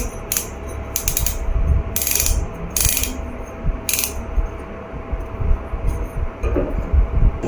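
Metal phone stand base being rotated, giving bursts of sharp ratcheting clicks in irregular runs, close and distinct over a quiet background with no talking.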